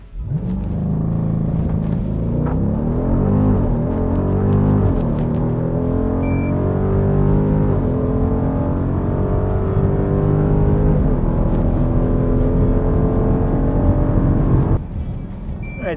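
A 2021 Dodge Durango SRT Hellcat launches hard on a drag strip using launch control, a loud, sustained engine roar rising through the gears in stepped pulls before easing off.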